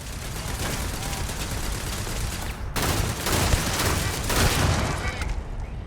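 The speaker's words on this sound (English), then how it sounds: "I have a feeling the rest of it is most likely turrets" Turrets fire during combat in the video game Starfield, producing continuous loud, rapid volleys of gunfire with a brief break before the shooting resumes.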